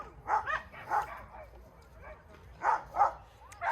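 Several dogs bark in bursts, sharp barks arriving in pairs with gaps between, at moderate distance over a faint low background hum.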